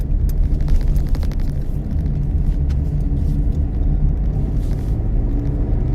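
Car engine droning steadily while driving in a low gear, a close, loud rumble with slight surges as the clutch is pressed and the gear is changed down, no voices.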